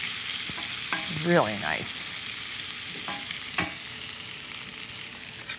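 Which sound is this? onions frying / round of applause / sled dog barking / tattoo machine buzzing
onions frying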